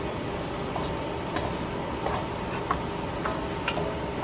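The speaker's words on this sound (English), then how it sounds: "And I have a small onion that I've chopped. And I'm going to put that in first." Chopped onion frying in a pan gives a steady, dense sizzle with occasional light clicks and taps of stirring, close and fairly loud with no talking.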